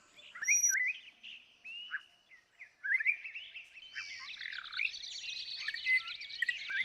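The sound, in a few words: Malabar whistling thrush call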